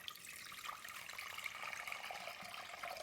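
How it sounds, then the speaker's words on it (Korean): Water runs from a tap into a large saucepan for beef udon broth, a soft, steady splashing trickle that stays faint and continuous in a home kitchen. "여기에다가 물만 넣으면 됩니다"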